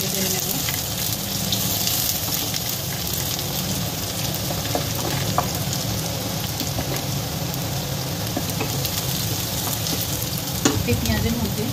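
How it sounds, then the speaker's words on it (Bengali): Onions fried and stirred in a pan for rice pulao give a continuous loud sizzle, steady throughout with occasional small clinks of the spoon. "এবার বাকি পেঁয়াজটা একটু ভালোভাবে নেড়ে চেড়ে নেব"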